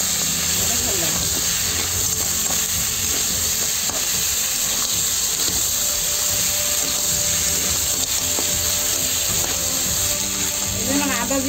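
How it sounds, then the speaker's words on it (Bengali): Crab frying in a pan with ginger and cumin paste for a Bengali crab and bottle gourd dish, a loud continuous sizzle with stirring scrapes throughout. "আদা জিরা বাটা দিয়ে ভালো করে ভাজা হয়ে গেছে কাঁকড়াটাও"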